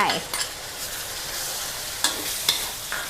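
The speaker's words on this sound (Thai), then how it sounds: "ผัดกุ้งแห้งให้หอม ไปกับกระเทียม" Soaked dried shrimp stir-fry with golden garlic in hot oil, giving a steady close sizzle punctuated by a few sharp spatula scrapes against the pan.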